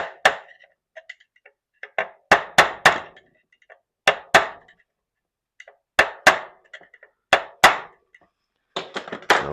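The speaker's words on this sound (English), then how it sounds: "I'll give it another little light tap here" A hammer strikes a Stihl 031AV chainsaw part with light metallic taps in small uneven clusters of two or three, crisp and close with silence between, no talk.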